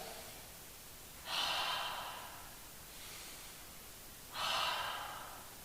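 Deep breaths during a yoga forward fold, two slow, airy exhales a few seconds apart, close and soft against quiet room noise.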